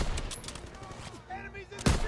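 Machine gun fire in a WWII D-Day video game crackles in quick bursts, with a loud blast near the end and a voice shouting briefly over the shooting.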